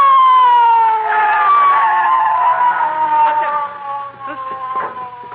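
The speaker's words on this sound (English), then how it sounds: "McGee, I hear a siren." A loud police siren wails steadily close by, its pitch sliding gradually downward over several seconds, with a faint engine rumble beneath.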